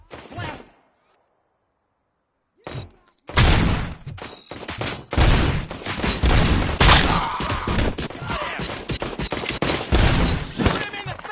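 Dense bursts of gunfire and impacts from the Robocop Rogue City video game, loud and continuous after a brief quiet start, with shouting voices mixed in over the shooting.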